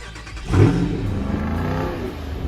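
A V8 engine in a Jeep Wrangler barks into a quick rev, then settles into a deep, steady rumble close by.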